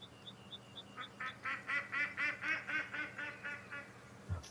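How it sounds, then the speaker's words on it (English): Wild duck in the hunting game Way of the Hunter quacking in a rapid series of a dozen or so nasal calls, moderately distant and faint, preceded by a few softer short notes. "There he is, the 5-star wild duck."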